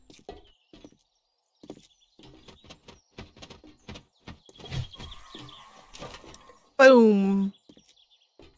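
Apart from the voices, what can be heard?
bird sound in a video game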